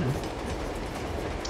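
A moving train in Uncharted 2 gives a steady rumbling clatter of wheels on rails, loud and continuous through the brief moment.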